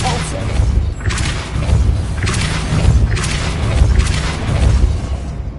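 A Depulso force spell cast repeatedly in Hogwarts Legacy, giving a run of low booming thumps with whooshing bursts at roughly one-second intervals over steady game noise, with a voice speaking between casts.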